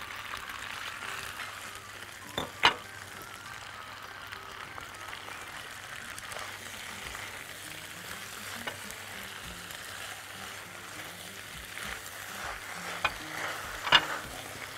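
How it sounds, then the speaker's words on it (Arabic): Pasta sautéed in a pan with butter, garlic and cherry tomatoes, giving a steady soft sizzle. Occasional stirring clinks and scrapes stand out, with no talking. "انا بحب اشوح المكرونه الاول على فكره قبل ما احط الجبنه"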